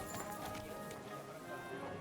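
Horse hooves clip-clop in the video game Kingdom Come: Deliverance 2, a quiet, steady gait of hoofbeats under background game ambience.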